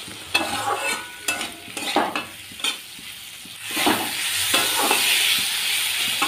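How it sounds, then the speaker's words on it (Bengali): Fried stems and potato being stirred into a sizzling spice masala for a mourola fish dish, with sharp, repeated spatula scrapes and clanks against the pan at first, then a louder, steady frying sizzle, close up. "এবারে আগে থেকে ভেজে রাখা ডাঁটা আর আলুটা এর মধ্যে দিয়ে দিচ্ছি। নেড়ে চেড়ে খুব ভালোভাবে মিশিয়ে নেব"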